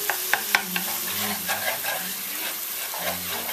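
Ground pork filling for Vietnamese steamed rice rolls, stirred as it fries in a pan: steady close sizzle with several sharp scraping knocks of the utensil against the pan, no talk.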